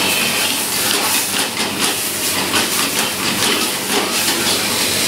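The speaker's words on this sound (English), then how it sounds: "And he'll flambé it a bit." Crayfish and prawns flambéed with brandy in a hot pan give off a steady, close, roaring hiss of flame that holds evenly throughout, with no voices.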